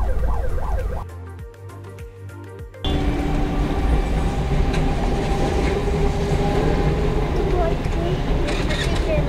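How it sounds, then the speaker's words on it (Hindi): A train rolls past a closed railway level crossing on a road trip in Himachal Pradesh, a loud continuous rumble with rattling close by. A brief rising and falling siren-like tone is heard near the start. "आप ये देख सकते हो कि यहां पे ट्रेन आने वाली है, फाटक के बीच में लोग खड़े हुए थे"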